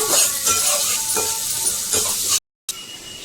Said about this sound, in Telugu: 2 రెబ్బలు కరివేపాకు. ఇది ఆరుగా వేయించుకోవాలి, మగ్గిపోవాలండి బాగా.